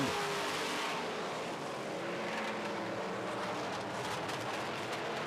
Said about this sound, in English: Delane goes high, the Keewatin Truck Service 44 in 2nd.